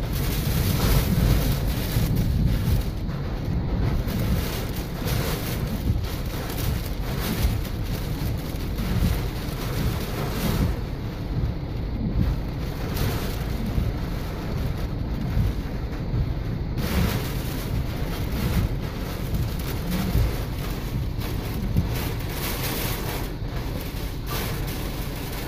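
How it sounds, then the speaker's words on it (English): Strong, sustained cyclone wind gusts from Tropical Cyclone Debbie roar and buffet the microphone continuously, a loud broadband rush with no letup and no voices. "Really strong gust."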